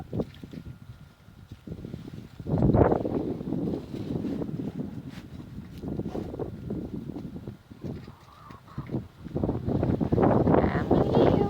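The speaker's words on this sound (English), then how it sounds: "It's really windy." Strong wind blows outdoors near a chicken yard, rumbling in uneven gusts that swell and fade against the microphone, with little else audible.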